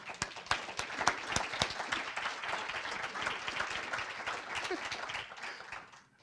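An audience at a technology meeting breaks into applause: many hands clapping in a dense, steady patter with a few sharp louder claps early on, gradually thinning and fading out at the end.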